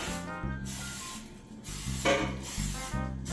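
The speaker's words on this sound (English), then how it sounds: "The next thing you want to do is you want to grease the pot." Cooking spray hisses from an aerosol can in several short bursts, coating a pot for baking Jamaican sweet potato pudding, close and steady with brief pauses between sprays.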